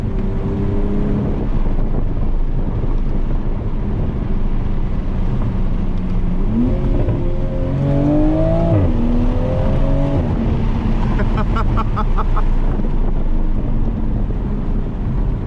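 A new 2020 Toyota Supra drives at steady speed under a continuous engine drone with heavy wind and road noise, then revs climb and shift mid-clip as it accelerates, all close to the cabin with no talk.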